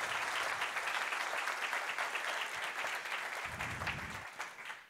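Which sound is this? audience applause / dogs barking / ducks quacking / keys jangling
audience applause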